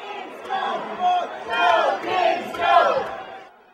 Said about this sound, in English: the crowd reacts, getting pumped up by the River Kings' #1 fan, Caleb English